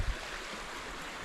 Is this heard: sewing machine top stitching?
no